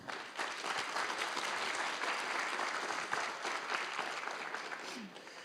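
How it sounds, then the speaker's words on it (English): An audience at the Investech Skills 2026 competition finale in Košice applauds the participants, steady dense clapping from a crowd that fills the room for several seconds and tapers slightly at the end. "So please make an applause for them."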